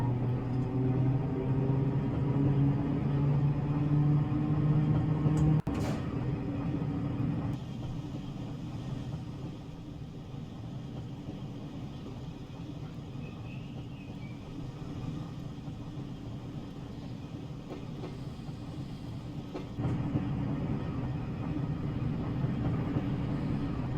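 A Class 503 electric train pulling away from Sheerness-on-Sea in Train Simulator Classic, a steady low motor hum and rumble that shifts in tone as it gets under way, with a sharp click partway through.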